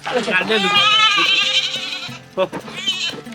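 A goat bleats loudly and close, a long wavering cry followed by a shorter bleat.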